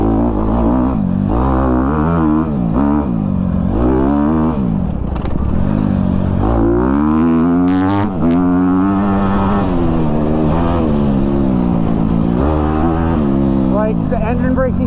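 Honda CRF250R four-stroke dirt bike engine running continuously while being ridden, loud and close, its pitch rising and falling with throttle changes.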